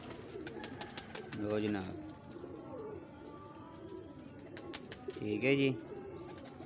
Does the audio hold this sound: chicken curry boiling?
no